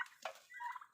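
Turkeys kept for feeding give a short gobbling call, with bursts of warbling cries close by over about a second, moderately loud and with no talk.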